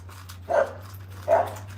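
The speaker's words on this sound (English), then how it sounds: "Watch this dog." A dog gives two short, separate barks or yelps about a second apart, moderately close, over a steady low hum, with no one talking.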